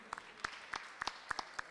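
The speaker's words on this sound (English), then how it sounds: "Please give a big round of applause." Scattered applause from a modest audience at a prize ceremony for dance competition winners, a few sharp claps standing out at a distance, fairly faint.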